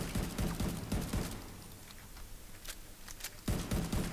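Rapid bursts of automatic gunfire come from the shooter video game The Division 2, loud at the start and end with scattered sharper shots in between.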